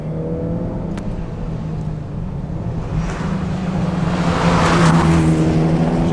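A tuned Mitsubishi EVO X accelerates hard up a tight, twisty road, its engine note droning loud and close and climbing steadily in pitch and volume as it pulls out of a corner, with no talking.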